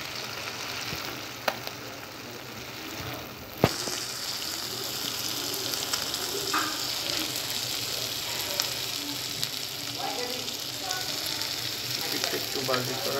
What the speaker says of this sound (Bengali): উল্টাই দেওয়ার পর কিছুক্ষণ একটু হালকা ভাজি করবো আবারও।